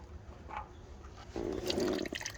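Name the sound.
used engine oil draining into a pan, 2016 Kia Optima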